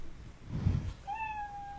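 A cat gives a single drawn-out meow, rising and then holding steady, heard close and fairly faint after a brief muffled rustle, with no talking.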